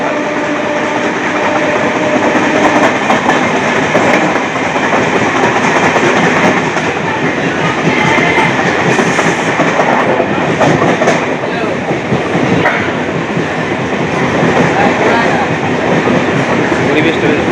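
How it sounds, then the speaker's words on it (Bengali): A moving commuter train rattles with a steady, loud clickety-clack of wheels on rails throughout, close and continuous. "যেহেতু ট্রেন চলছে, যেন গাছগুলো চলছে"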